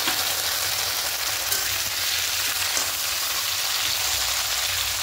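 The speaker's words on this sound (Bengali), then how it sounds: "এবার মাছের মাথাটা হালকা করে একটু ভেজে নেব" Hilsa fish head frying in hot oil with lightly browned onions, a dense, steady hiss and crackle heard up close with no talking.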